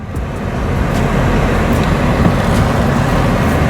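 A 2026 Lexus IS 300h Premier in sports mode gives a steady, loud engine roar that holds at a constant level, with a deep rumbling low end and no voices.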